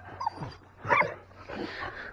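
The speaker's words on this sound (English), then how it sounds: "These are big bad dogs." Big dogs bark and yelp in a short, uneven flurry, close and fairly loud, with a sharper burst in the middle.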